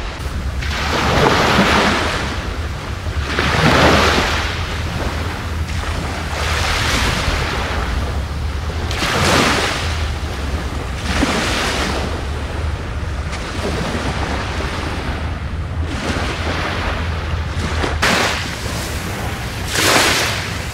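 Sea waves roll onto a beach, each surge rising and crashing in a slow repeating rhythm under a steady wash and wind rumble, loud and close.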